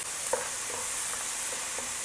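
Tomatoes softening in a frying pan while cooking for Mangalorean stuffed squid with rice, giving a steady soft hiss with a few faint scattered pops and light stirring clicks, fairly quiet and with no talking.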